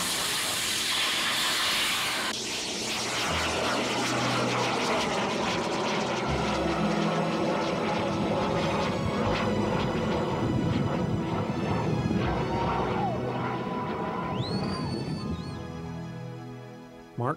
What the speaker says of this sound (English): Ten, nine, eight, seven, six, five, four, three, two, one, ignition.